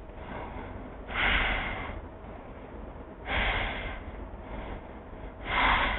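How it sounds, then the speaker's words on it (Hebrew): Slow breathing during Taoist meditation: three forceful exhales roughly two seconds apart over a soft, steady breath background, close and intimate with no speech. "נשיפה ועוד 3 נשימות."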